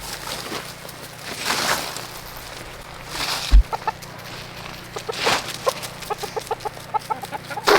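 Chickens cluck close by in short, repeated bursts, with soft scratching and rustling in between as they scratch around in a compost bin on an iced-over homestead.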